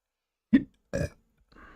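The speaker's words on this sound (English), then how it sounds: "Sorry for the burp." Two short, close belches, one sharp and one rougher, during a coding session, followed by a faint trailing sound.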